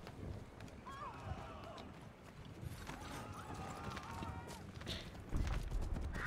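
Horse hooves clip-clop in Assassin's Creed III Remastered as a rider mounts and sets off, a steady rhythmic trot at moderate distance with game ambience and soft voices over it.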